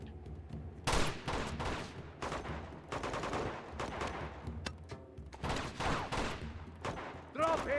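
Video game firefight in Uncharted 2: Among Thieves, with repeated bursts of gunfire and sharp shots scattered through about eight seconds, near and fairly loud, mixed with in-game voices calling out.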